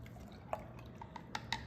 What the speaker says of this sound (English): grab our ladle, and pour it right into the wine glass